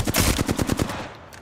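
Rapid automatic gunfire in Apex Legends, a burst of about ten sharp, loud shots in quick succession that trails off into a fading echo.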